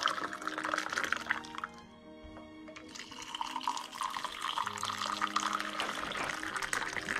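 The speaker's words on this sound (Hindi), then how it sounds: "इसके ऊपर डालेंगे हम गर्म पानी उबला हुआ" Hot boiled water pours over ginger, lemon and honey in a cup, a steady close liquid splash that briefly pauses and then resumes, filling the vessel.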